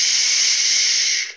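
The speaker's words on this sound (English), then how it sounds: "It's going to be into the nose, out through the mouth, through pursed lips and tongue" A slow, steady exhalation through pursed lips, demonstrated as a breathing technique during a rehabilitation exercise session, giving a close, continuous airy hiss that holds evenly for over a second before fading out at the end.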